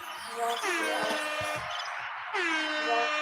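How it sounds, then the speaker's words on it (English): A loud, blaring air horn sounds in two long bursts separated by a short pause, brash and close. "got the air horn"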